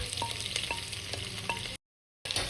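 Sliced onions sauté in a pan while being stirred, giving a soft close sizzle with light scraping taps before a brief silent gap.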